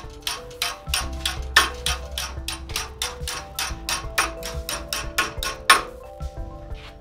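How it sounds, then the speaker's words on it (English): Sharp metallic hammer blows on metal strips clamped in a vise ring out in a steady rhythm, around twenty strikes close by, each with a bright clanging tail and a few heavier hits. "I'll clamp these in this vise, and then I'm just going to hammer it slowly"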